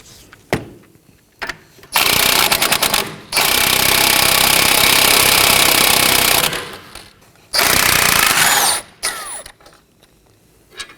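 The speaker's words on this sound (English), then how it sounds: "remove the nut using a 18mm on an impact wrench." An impact wrench fitted with an 18mm socket spins off the strut nut on a Nissan Maxima: loud, close, rattling bursts of hammering, one long burst and a second shorter one, with quiet pauses and clanks in between.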